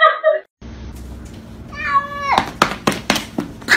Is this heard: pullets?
no